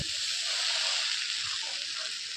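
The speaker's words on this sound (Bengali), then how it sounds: "টমেটো সস, চিলি সস দিয়ে ভালো করে ভেজে নেব।" Chow mein with fried vegetables, tomato sauce and chili sauce hisses in a pan as one even, bright sizzle that holds steady before cutting off abruptly at the end.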